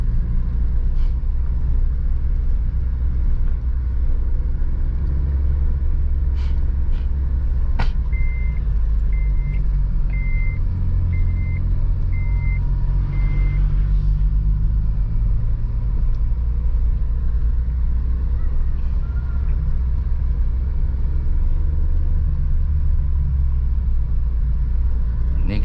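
Interior engine rumble of a manual car idling and creeping through a left turn, steady and loud the whole time, with a brief run of rhythmic electronic beeps partway through and a few faint clicks, no talking.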